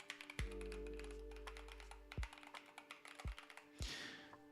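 Keystrokes on a mechanical keyboard fitted with Holy Panda switches, a MIKIT MK72 build, tapping out in quick irregular bursts with a few heavier thocks and a sustained low hum, close and moderately loud with no voices.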